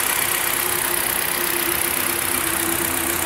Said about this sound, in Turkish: Yani motor şu anda gayet stabil.